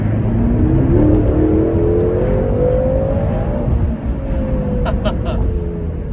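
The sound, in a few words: BMW F13 M6 engine revving and accelerating through gears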